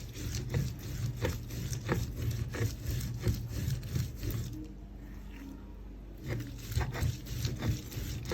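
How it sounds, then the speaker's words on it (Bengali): Onion, garlic and green chili are ground on a stone shil pata slab with a stone roller, making rhythmic rasping back-and-forth scrapes close by. The strokes pause for about two seconds midway, then resume. "কি সুন্দর করে আম্মু বেটে নিচ্ছে সবগুলো।"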